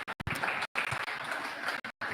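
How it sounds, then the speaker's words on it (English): Forum audience applauding panelists as they come to the stage, a moderate wash of clapping broken by several abrupt dropouts to silence. "give them a round of applause because they got something to say"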